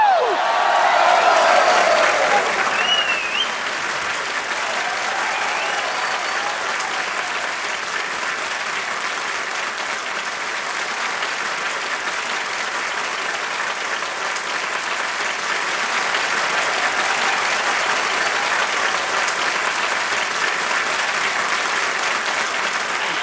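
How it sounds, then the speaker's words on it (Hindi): Long, sustained studio-audience applause on a comedy talk show, greeting an arriving guest; a brief burst of whoops and cheers at the start settles into an even wash of clapping that carries on at moderate level throughout. "सो जोरदार तालियों के साथ स्वागत कीजिए डॉक्टर मशहूर गुलाटी जी का"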